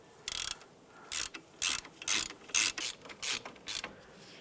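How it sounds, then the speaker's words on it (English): A hand ratchet tightens bolts on a 2001-2005 Honda Civic CV axle during a boot replacement, giving a series of quick, close clicking ratchet strokes in short bursts with brief pauses and no talking. "we'll snug those down with our ratchet"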